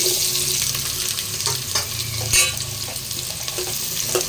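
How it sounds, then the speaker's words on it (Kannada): Onions sizzle in a pan of hot oil, about four ladles' worth, for a mushroom biryani, giving a loud, continuous crackle up close with stirring scrapes and a brief sharper spatter midway. "ಇದಾದ್ಮೇಲೆ ಈರುಳ್ಳಿ ಹಾಕೊಳ್ಳಿ"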